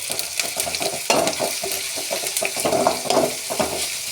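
Ginger paste sautéing in a pan, a steady sizzle with scraping stir strokes running throughout, close and fairly loud, with no talking.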